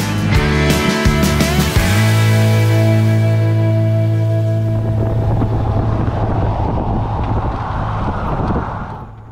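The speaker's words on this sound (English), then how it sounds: "You can see the winds picking up as I get ready to leave Roby." Strong wind buffeting a microphone on a motorcycle road trip along US Highway 180 near Roby, Texas, loud roaring gusts over a steady engine drone that fades out toward the end.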